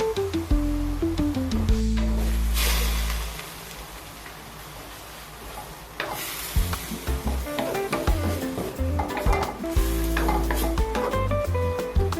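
Corn stir-frying in a hot pan: a steady sizzle with a spatula scraping and clattering against the metal in irregular bursts, loud and close, with a brief quieter lull midway.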